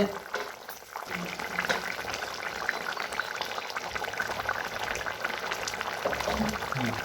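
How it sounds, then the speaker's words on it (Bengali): A potato and egg curry gravy bubbles in a pan, a close, steady simmering burble that continues throughout, with a voice speaking at times over it. "দেখুন আমাদের গ্রেভিটা ফুটে গেছে"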